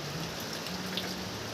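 Steady rain falls over a vegetable plot in the Philippine countryside in the afternoon, a dense, even hiss with scattered drops close by.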